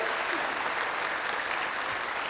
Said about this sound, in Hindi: कवियों का स्वागत ना तालियों से होता है